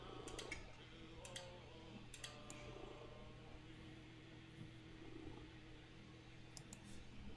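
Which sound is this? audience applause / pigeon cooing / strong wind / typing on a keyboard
typing on a keyboard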